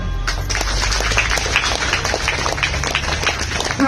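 An audience claps together at a talk on meditation, a dense, steady wash of many hands that runs the whole time at close, even loudness.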